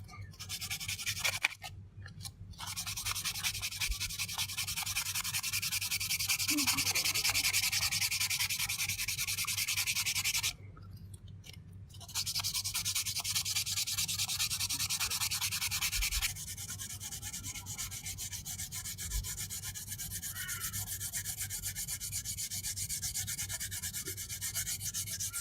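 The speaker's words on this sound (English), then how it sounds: "I'll start shaping that with the sandpaper." Sandpaper rasps steadily against a wooden crankbait lure as it is shaped, making continuous rubbing strokes with two brief pauses, close and fairly quiet.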